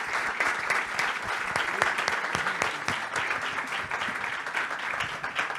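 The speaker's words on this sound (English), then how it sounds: "let's provide an applause to the panel." An audience at an international conference on digital platforms applauds a panel, steady close clapping at moderate loudness that holds without a break.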